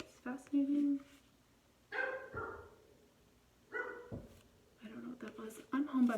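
A pet dog barks in a home in several bursts, with someone talking between and over the barks, the barking fairly loud and close.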